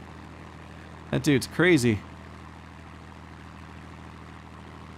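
A propeller warplane's engine drones steadily at moderate level in World of Warplanes, a continuous low hum beneath a brief burst of male speech near the start.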